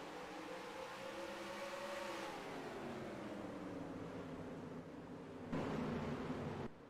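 Race cars lap the short Martinsville oval in a racing video game, a steady droning engine roar with rising and falling pitch as cars pass, growing louder near the end.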